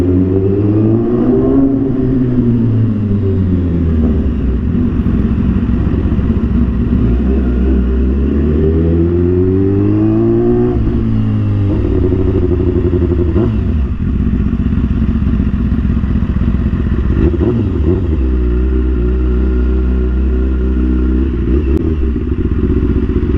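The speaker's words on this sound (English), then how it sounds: "So this is my 2014 BMW S1000RR." A 2014 BMW S1000RR sport bike is ridden hard, its engine revving up and down through repeated loud climbs and drops, with road rumble and clatter steady throughout and no talking.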